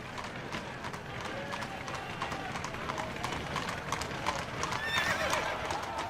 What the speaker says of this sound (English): When the horse-drawn hearse bearing Wenceslas's body entered Prague, the horses suddenly stopped in front of the main prison